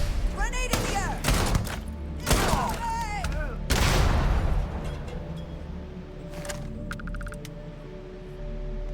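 Grenade blast and gunfire in a Starfield firefight: sharp shots crack out in bursts, followed by a heavy explosive boom near the middle, with shouting voices and lingering battle noise afterward.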